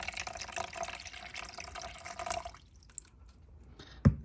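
Water for an eco resin mix is poured steadily into a container for about two and a half seconds, then stops, leaving a few quiet drips and a sharp knock near the end.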